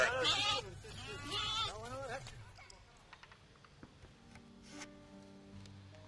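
Lambs bleat in loud, wavering cries several times at the start, near and clear, before fading into a quieter scene with faint clicks and a steady background tone.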